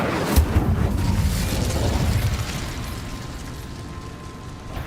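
An Incendio fire spell cast in Hogwarts Legacy, a roaring burst of flame that starts with a pop and then trails off into a fading whoosh.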